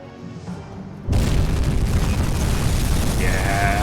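Torpedo striking a tanker in the UBOAT submarine game, a sudden deep booming explosion after a quiet stretch, followed by a sustained loud rumble.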